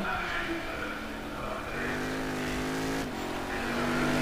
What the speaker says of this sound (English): One of the best sounding cars in the pack for sure, and also one of the coolest looking cars on the downshifts